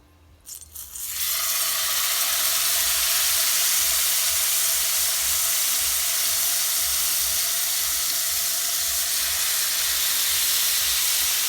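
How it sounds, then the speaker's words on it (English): Salmon drops into hot oil in a pan and immediately sets off a loud, sustained sizzle that holds steady and unbroken for several seconds, with no talking over it. "make sure that the oil is already hot before you put the salmon, or else your salmon will just stick in your pan"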